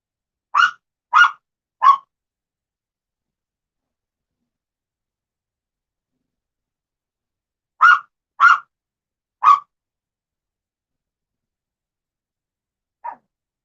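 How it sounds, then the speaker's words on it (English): A dog barks in two bursts of three sharp, evenly spaced barks, followed by one fainter single bark. Each bark is clear and close, with total silence in the gaps between. "Sorry about the dog barking."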